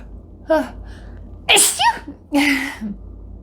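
Several sneezes burst out close up in quick succession, each a sharp explosive exhale, with a short pause between them.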